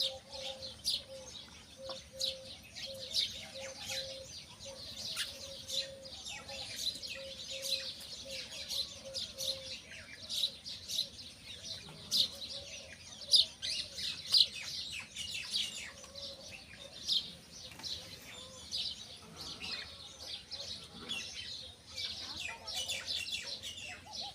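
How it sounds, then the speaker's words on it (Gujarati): Soft bird chirps and tweets come from a pair of pigeons and their chick at a homemade nest, with repeated faint calls over a quiet background, plus an occasional low coo. "આપણા કબૂતર પેલા બે રહ્યા અને એક આ બચ્ચું"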